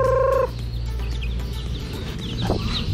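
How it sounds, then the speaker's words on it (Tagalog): Chickens clucking close by among newly hatched chicks, with a loud squawk at the start followed by softer clucks and faint peeping chirps. "So ang bilis magparami ng mga manok natin."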